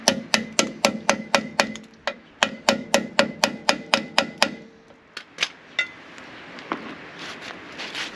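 About fifteen sharp, evenly spaced metallic hammer blows drive a bolt back into the rear brake backing plate of a 1980-1996 Ford F250. A pause follows, then a few scattered lighter clinks close by.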